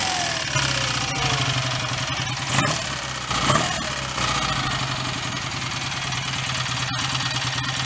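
A BSA A65 motorcycle engine runs steadily at idle with a rough, knocking mechanical rhythm, close by and fairly loud, with a few brief clunks.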